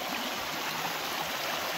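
Steady broadband rush of a waterfall and stream flowing nearby, a constant dense wash of water with no pauses or voices.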